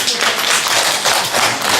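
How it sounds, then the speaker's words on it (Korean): A church congregation claps along together, a dense wash of handclaps with a loose steady beat, loud and close. "우리 박수로 한번 합니다."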